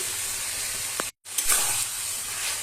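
Potatoes tipped into a pan of hot frying onion-spice masala, with a steady loud sizzle and hiss, a short sharp break, then renewed spitting and sizzling as the pieces settle.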